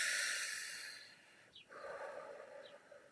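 A deep breath drawn in and slowly let out, soft and close, a hushed airy rush that fades and then returns faintly.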